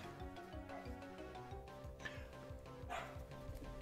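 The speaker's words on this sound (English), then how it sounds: "My dogs are barking again, man." Dogs bark in short bursts in the background of an indoor Pokémon battle stream, partly buried under steady, looping game music.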